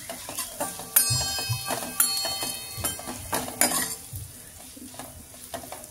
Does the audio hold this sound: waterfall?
no